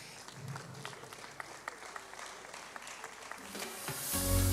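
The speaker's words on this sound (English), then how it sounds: "please put your hands together for Mr. T.A." Sparse, faint handclaps from a conference audience at the African Creators Conference as a speaker is welcomed, with scattered individual claps, then a loud rumbling burst right at the end.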